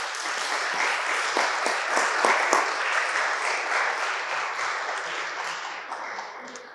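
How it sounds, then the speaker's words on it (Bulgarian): Audience applause at a book presentation: many people clap together in a sustained, even wash of sound that slowly fades toward the end, with no voices. "Ще ви помоля за аплодисменти за Димо."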